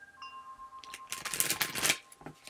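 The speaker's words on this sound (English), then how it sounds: "We're going to give them one more shuffle." A deck of cards being shuffled up close, a soft ruffling riffle that builds to a dense flurry of quick papery clicks before settling, with a faint steady hum underneath.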